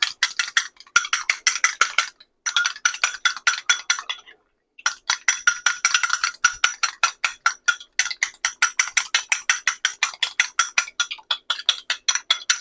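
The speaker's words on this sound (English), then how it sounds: "Just get that a good whisk." Eggs are whisked in a bowl with a whisk. The rapid, rhythmic clinks come in quick runs broken by brief pauses, close and distinct.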